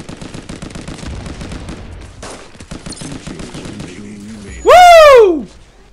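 Rapid bursts of gunfire in the online shooter Armajet rattle through a match, followed by a loud sweeping blast near the end.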